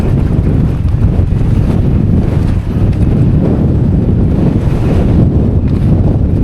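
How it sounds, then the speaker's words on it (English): Strong gusting wind at Blackstone Edge buffets the microphone, a loud continuous roar that swells and dips without pause. "Bloody hell, that's windy."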